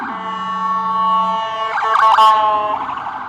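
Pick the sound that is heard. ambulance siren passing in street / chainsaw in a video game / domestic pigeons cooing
ambulance siren passing in street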